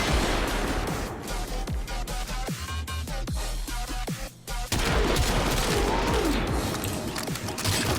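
Rubico Prime sniper rifle in Warframe fires loud, close, heavy shots with booming tails over continuous game sound, one brief dip midway, no talking.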